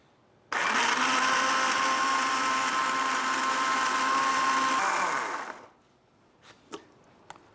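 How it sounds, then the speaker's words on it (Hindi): Red chutney with salt and a dash of water is ground in a mixer grinder, a loud, steady whirring roar lasting about five seconds before it winds down, followed by a few light clinks. "अब हम इसे ग्राइंड करेंगे।"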